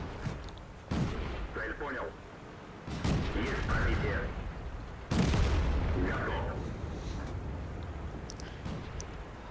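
A T127 tier 3 premium light tank in a video game fires its main gun three times, each a loud, sharp boom with a long rumbling tail, spaced about two seconds apart.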